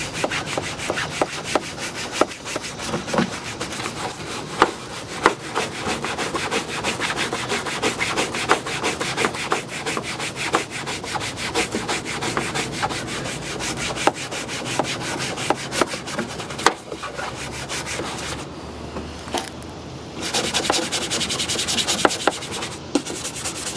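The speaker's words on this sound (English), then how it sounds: "good old-fashioned fingernail brush, nothing fancy. And just agitate it down into the pores where the wash rag won't quite reach." A plain fingernail brush scrubs polish into the pebbled, textured plastic bumper of a Honda CR-V, making a steady, close bristly rasp that runs on without pause and without voices.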